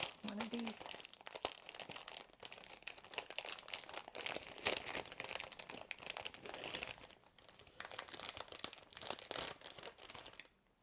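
Paper backing peels and crinkles during a scrapbooking session, a dense stretch of close rustling, tearing and handling noise running for about ten seconds, with a voice talking quietly over it.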